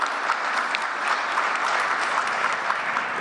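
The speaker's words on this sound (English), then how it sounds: "give a big round of applause for the work they've done to bring us here" Steady, dense audience applause fills a large hall at the COP29 Leaders' Summit of Small Island Developing States, sustained and even throughout with no voices over it.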